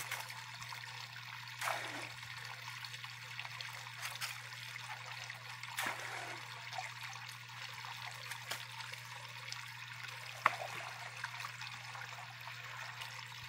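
Spring water trickles steadily into a sandy cacimba well where leaves collect, a soft, continuous wash with a low hum beneath and a few faint knocks, heard alone without talk.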